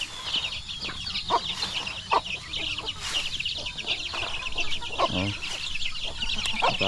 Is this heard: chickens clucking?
yes